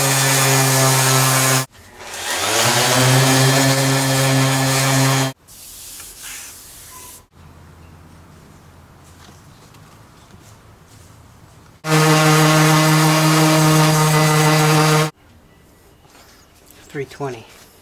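Power sander working aluminum with 150-grit paper, loud steady whirring bursts with strong tonal hum, stopping and restarting several times with quieter gaps between runs.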